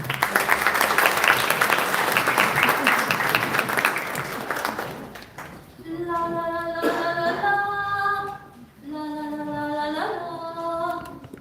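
An audience at an International Creole Language Day event in 2025 applauds loudly and warmly for several seconds, then the clapping dies away as a voice begins singing a melodic performance.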